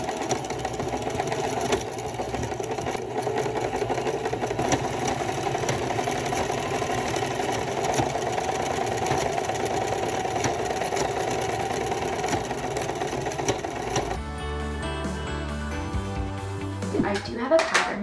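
A sewing machine straight-stitches the sides and shoulders of a quilted jacket, running in a long, steady mechanical whir for about fourteen seconds before shifting to a sparser, choppier pattern near the end.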